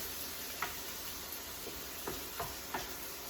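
Chicken sautéing in a pan for a roasted root vegetable pot pie gives a faint, steady sizzle, with a few soft ticks and scrapes of stirring scattered through it.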